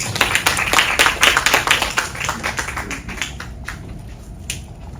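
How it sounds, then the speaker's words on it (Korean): An audience at a lecture claps to welcome the second speaker, dense applause lasting a few seconds before it thins and fades out near the end. "큰 박수로 모시겠습니다"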